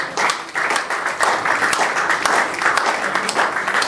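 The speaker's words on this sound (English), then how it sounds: "Please clapping." An audience claps at a Nigerian Society of Engineers ceremony installing its president, steady crowded clapping with a few sharper individual claps standing out, moderately loud and continuous.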